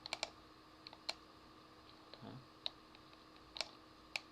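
Sharp clicks of a computer mouse, a few scattered single and double presses with short gaps, close and clear against a quiet background.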